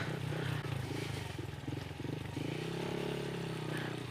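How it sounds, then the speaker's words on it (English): A Honda Monkey motorcycle engine running while being ridden on a rough track, putting out a steady close putter whose pitch shifts as the throttle changes, with wind noise over it. "this is the best motorcycle in the world"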